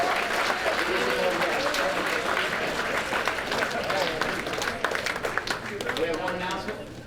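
Audience applause for the 2010 cheerleaders at a high school football awards dinner, a steady, dense round of clapping from a crowd in a hall that carries on for the whole stretch, with some voices mixed in.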